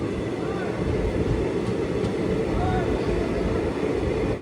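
A train on the Talguppa line idles and rumbles at platform 2 of Shivamogga Town station, a steady, loud broadband drone that fills the whole stretch without pause.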